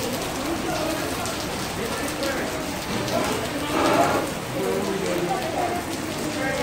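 Steady rain in Jamaica patters down on a hard surface, a dense continuous hiss with scattered droplet taps, swelling slightly midway.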